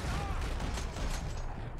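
Gunfire in the video game Max Payne 3: a short, dense burst of loud shots and clattering mechanical noise, continuous and close, with no clear gaps between reports.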